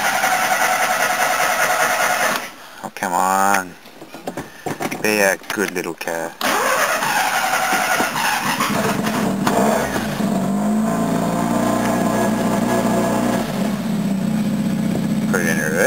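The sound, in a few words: Mazda 12A rotary engine car idling on a cold start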